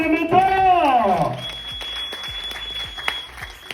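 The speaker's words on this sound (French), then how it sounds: "On applaudit très fort pour les mentors." Applause from an audience follows a loud voice, the clapping continuing steadily as a dense crowd wash.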